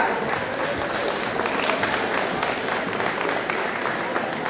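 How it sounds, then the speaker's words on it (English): An audience at a senior citizens' celebration claps steadily and fairly loudly, a dense continuous patter of many hands with no pauses. "Please give them all a big round of applause."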